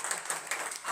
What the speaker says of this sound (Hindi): जबरदस्त ताली बनती है।